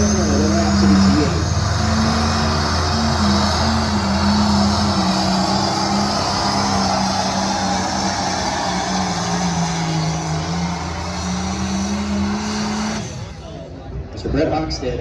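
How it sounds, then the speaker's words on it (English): A tractor pull truck engine roars loudly and continuously at a county fair truck and tractor pull, a dense droning howl that holds for about thirteen seconds before cutting away. An announcer talks over it. "the motor will be coming right along and will launch the Rhapsody machine down the track here tonight"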